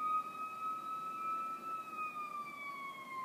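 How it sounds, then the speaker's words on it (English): A siren from an ambulance or fire truck wails outside at a distance, its steady high tones sliding slowly downward in pitch as the vehicle passes, with no one speaking. "that's either an ambulance or a fire truck."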